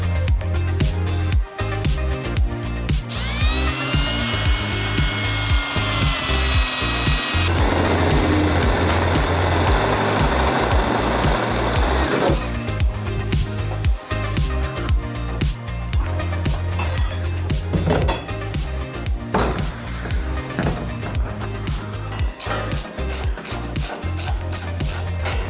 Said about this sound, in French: Je vais percer le toit, lui mettre des inserts.